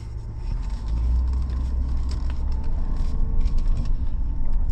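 A 2025 Chevrolet Silverado LTZ pickup with a V8 engine burbles steadily while driving, a deep continuous low rumble with road and cabin noise throughout, no talking.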